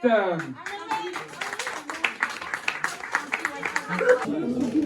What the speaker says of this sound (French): Voici, applaudissements pour Maman Ahmed.